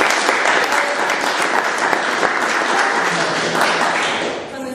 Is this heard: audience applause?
yes